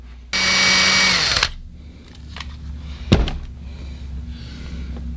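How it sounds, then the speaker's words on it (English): A power drill bores through a cracked cylinder head in one loud, close burst lasting about a second, then winds down, followed by a sharp knock and quieter shop handling noises. "we drilled from one side to the other"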